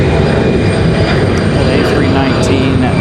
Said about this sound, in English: Nice sounding departure here for Delta.